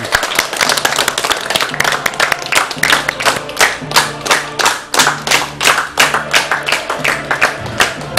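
Football crowd in a stadium's south stand clapping and applauding, a dense rhythmic patter of many hands close by with a low drone underneath, steady for several seconds.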